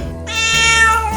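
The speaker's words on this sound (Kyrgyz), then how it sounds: "Мыйоологон үнүнөн мышыктын тажап кеткенин байкаса болот" A domestic cat gives one drawn-out, plaintive meow, close and clear, rising and then falling away, alone with no talk.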